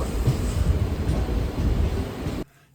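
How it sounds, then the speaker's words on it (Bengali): A train pulling into a station in Kolkata, a loud steady low rumble of wheels and carriages that cuts off abruptly near the end. "সো আমাদের ট্রেন চলে এসেছে"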